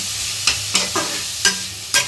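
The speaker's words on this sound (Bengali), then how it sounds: "ভাজা হয়ে যাচ্ছে পনির এদিকে পনির ভাজা হচ্ছে" Steady frying sizzle of paneer in a pan, punctuated by four or five quick clinks of a spatula stirring and turning the food.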